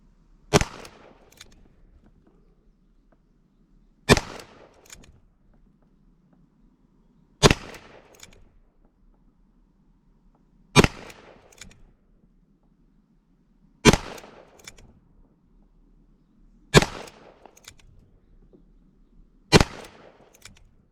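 A Ruger SP101 revolver in .22 LR fires 36-grain varmint rounds at a range, seven sharp shots spaced about three seconds apart with brief echoes between, no talk.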